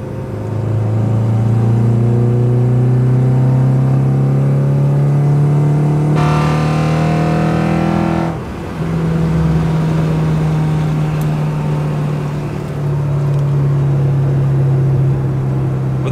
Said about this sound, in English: the car feels sluggish, but these cams sounds absolutely amazing. With the VTEC crossover is insane.